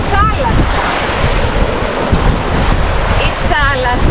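Sea waves break and wash up on a sandy Greek beach, a loud continuous roar of surf mixed with wind buffeting the microphone.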